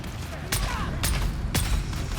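Gunfire in the video game Dune: Awakening, three evenly spaced sharp shots about half a second apart over a low rumbling background, with faint speech.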